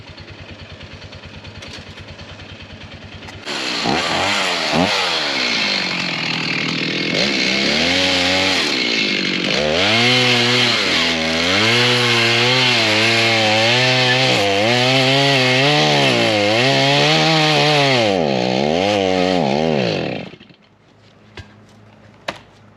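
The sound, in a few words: chainsaw cutting wood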